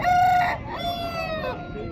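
A Kakinemali breed rooster crows at the Nallapadu hen market in Guntur, loud and close: one drawn-out, strained crow with a steady murmur of the market behind it.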